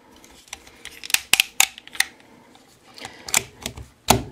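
Plastic clicks and snaps from a Takara Predaking transforming toy robot as its arms are folded up, a run of sharp close ticks at an uneven rhythm.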